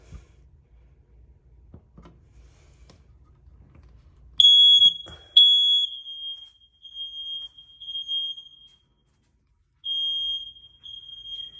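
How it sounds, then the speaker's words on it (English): Several high-pitched electronic alarm beeps sound one after another in a quiet house, steady piercing tones stopping and restarting as hardwired smoke detectors in different rooms go off in series. "As you hear, the smoke detectors in different rooms are going off"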